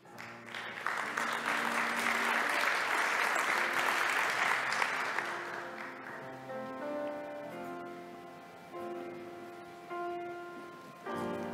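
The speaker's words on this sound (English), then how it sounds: "We also applaud the doctorates who were unable to participate today." Audience applause at a university academic ceremony for the 102nd anniversary of TalTech, dense and sustained for several seconds before dying away as music with sustained tones takes over.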